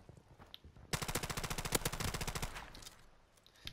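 A Scorpion submachine gun in Call of Duty Modern Warfare Remastered fires one loud, rapid, steady burst of many shots lasting about a second and a half, then goes quiet apart from faint game noise.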